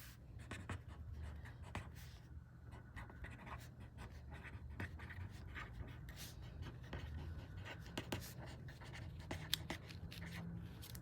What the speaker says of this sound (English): I'm trying to write large so it's easy for you to see.